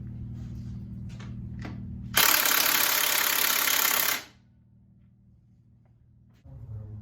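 Impact wrench fitted with a chrome socket working on a Harley-Davidson Dyna compensator, one loud close burst of rattling hammering lasting about two seconds between quieter stretches of shop hum.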